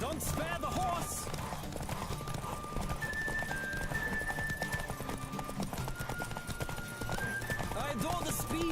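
A horse gallops with rapid, rhythmic hoofbeats in The Witcher 3 video game, with an occasional whinny, and voices talk over the running.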